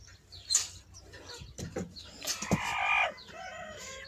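A hen clucks and cackles while laying an egg, with irregular squawks and throaty calls up close amid faint background noise and a few soft knocks.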